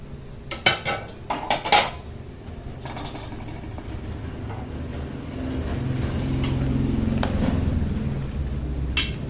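Metal spoon clatters and scrapes against a pot while mussel curry with kangkong is stirred, a few sharp clinks early then a steady bubbling simmer underneath, close and moderately loud with no talking.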